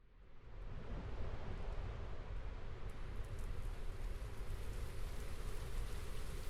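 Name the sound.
rain in the video game Brickadia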